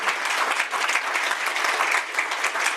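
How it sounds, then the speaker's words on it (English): Steady round of audience applause at a climate week event, continuous clapping from a crowd at moderate level without a break. "please another round of applause for Carla."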